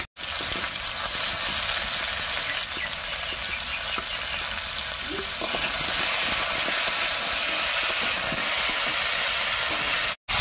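Potatoes and pointed gourd sizzle steadily in a hot pan, giving a constant, close frying hiss with no clear break.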